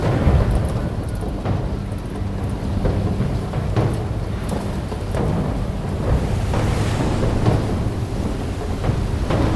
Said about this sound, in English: this storm is crazy. Never seen so much lightning.